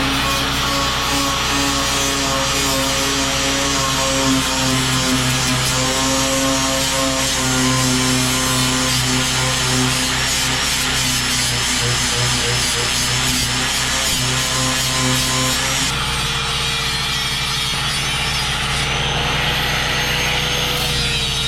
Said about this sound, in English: Yeah, so I guess we can start grinding.